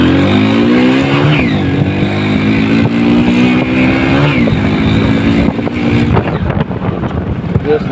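A motorcycle engine with a damaged or missing exhaust rumbles loudly and close, rising in two sharp revs before settling into a rough, rattly idle.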